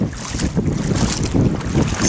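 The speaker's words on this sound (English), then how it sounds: "Still windy." Strong wind gusts across a riverside camp in Black Canyon, between Willow Beach and Hoover Dam, roaring and buffeting the microphone in a steady, rough rush with no voices.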